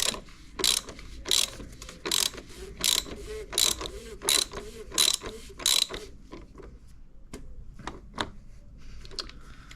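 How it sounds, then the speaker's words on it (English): A ratchet tightens a part back into place during a service on a Mk2 Skoda Fabia 1.6 TDI. It gives close, loud bursts of rapid clicking in a steady back-and-forth rhythm, then fainter, sparser clicks toward the end. "We can start screwing it in by hand, and then we'll get the ratchet back on there."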